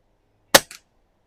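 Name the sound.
Pinty Timber rifle being fired at the range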